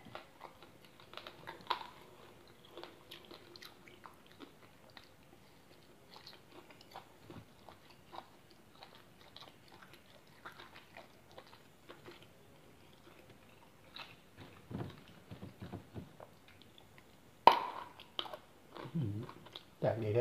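Crispy grilled frog being chewed at a lunch meal, giving soft crunchy bites and mouth clicks scattered through a quiet stretch, with louder close bursts near the end.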